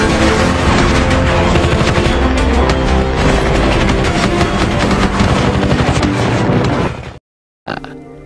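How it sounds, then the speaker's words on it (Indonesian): Sustained rapid gunfire with booming blasts from a shootout in The Walking Dead season 8, loud and dense for about seven seconds, then a brief silence before the shooting resumes. "Terjadilah baku tembak di sana."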